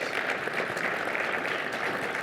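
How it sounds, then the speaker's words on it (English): A conference audience claps steadily throughout for a panel, a dense even patter of applause. "round of applause for our panelists."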